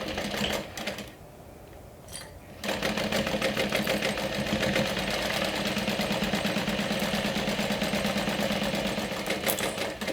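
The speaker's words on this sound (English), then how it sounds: "So let's stitch that down with a 1/4 of an inch seam allowance." A sewing machine runs steadily, stitching a 1/4 inch seam on a fabric panel; after a brief pause near the start, the rapid rhythmic mechanical chatter continues unbroken and close, with no talking.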